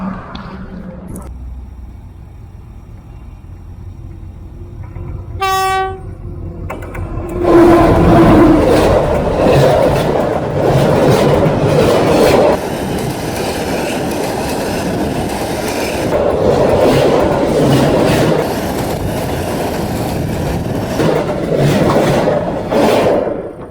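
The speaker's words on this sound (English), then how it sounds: "A train is coming" A train thunders past very close, directly over the camera, on the line between Dong Ha and Hue in Vietnam, with a loud, sustained roar of wheels and rattling cars lasting many seconds, preceded by a brief horn-like tone.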